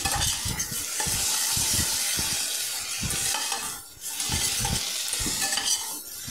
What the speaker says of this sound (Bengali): হিংগোলা জলটা আমি কড়াইতেই দিয়েছি